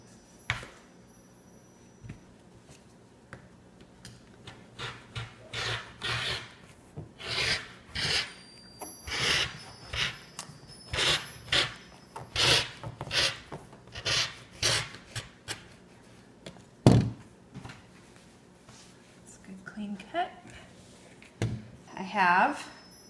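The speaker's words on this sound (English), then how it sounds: "I'm just going to make it easy and cut two 12 inch wide strips here." Scissors or a cutter rasp through fabric in a run of short rhythmic strokes while strips 12 inches wide are cut for a padded headboard, close up, with a person talking over parts of it.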